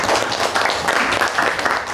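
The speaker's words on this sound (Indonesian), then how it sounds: "beri aplaus dulu untuk kelompok" Classroom applause for a student group after their presentation, a dense, loud burst of many hands clapping steadily throughout.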